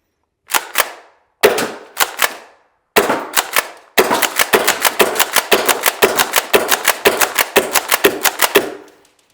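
An EMG KelTec KSG airsoft shotgun fires a full magazine: a few spaced loud snapping shots, then a rapid steady string of sharp cracks close by, with no talking.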